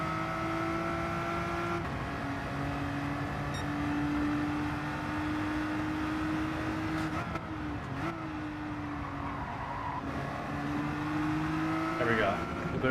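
A BMW GT3 race car engine in a racing video game holds a steady, sustained drone, its pitch shifting slightly as it brakes and gets back on the throttle, with a faint voice in the background.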